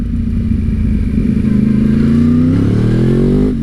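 A Honda CBR 1000RR or Yamaha R1 sport motorcycle engine revs after a downshift to first gear, a loud, close, steady drone whose pitch climbs toward the end.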